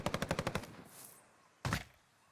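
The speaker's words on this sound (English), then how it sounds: "pings where he hears the gunshots at" Warzone battle royale gunfire: a rapid burst of about eight automatic shots, then a pause and one sharp single shot, distant-sounding and fairly quiet with no talk.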